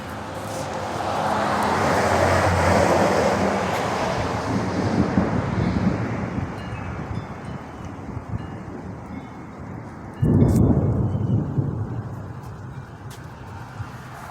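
Strong wind buffets the microphone amid a rushing roar of heavy rain, rising and falling, with a sudden louder gust surging near the end.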